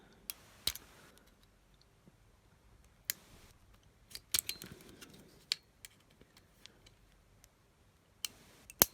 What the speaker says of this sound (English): The other option is just a small screwdriver or something to hook into this here and bring it out